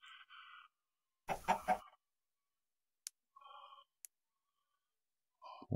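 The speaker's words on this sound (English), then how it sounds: "Hey, chicken." Short, sparse clucks from a chicken in the Minecraft VR video game, a few separate bursts with silence between them.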